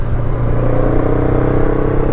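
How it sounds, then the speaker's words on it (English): A Honda NX500 motorcycle fitted with a new black ceramic aftermarket exhaust with the baffle in, idling in a steady, loud, close low rumble with a deep throbbing pulse throughout. "with this exhaust on, it sounds quite nice"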